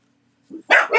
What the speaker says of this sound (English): They're supposed to be the non-barking ones, but they're barking